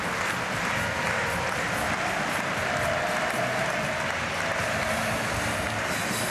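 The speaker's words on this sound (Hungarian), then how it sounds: "a győri közönség is megtapsolja a levonuló Várdár játékosokat" A handball arena crowd in Győr applauds departing Vardar Skopje players, a dense, unbroken wash of clapping that stays loud and even throughout.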